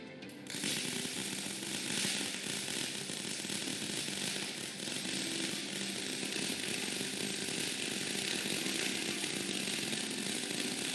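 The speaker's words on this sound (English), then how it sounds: "He's going to be practicing and performing a fillet weld on our flat bar T-joint that we have set up here." A fillet weld is laid on a flat bar T-joint, giving a steady, dense arc crackle and hiss that continues unbroken at an even level, with no voices.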